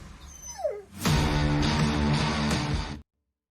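A dog gives a thin, falling whimper, then breaks into a loud, sustained burst of yipping and whining that cuts off abruptly, close by with no talk.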